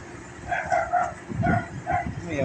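A dog barks and yips several times at a provincial bus loading operation onboard a ferry, the barks clear and fairly close over a busy background hum.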